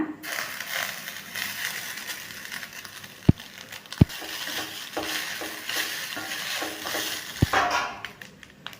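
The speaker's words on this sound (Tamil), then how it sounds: "ஸ்டவ்வை செம்மலை வச்சுட்டு வறுக்கலாங்க" Grated coconut and crumbled idiyappam roast on a low flame in a pan, stirred with steady scraping and a light sizzle, broken by a few sharp clacks of the spatula against the rim.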